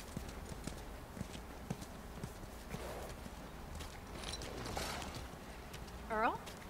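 Horse hooves clip-clopping in a steady walking rhythm in The Last of Us video game, soft and close, with a brief horse snort or whinny near the end.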